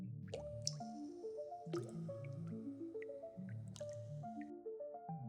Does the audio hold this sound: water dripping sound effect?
yes